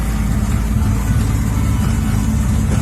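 A classic car engine, offered for sale by its owner, idles loud and close with a steady low rumble, holding an even, unchanging drone with no revving evident and no talking.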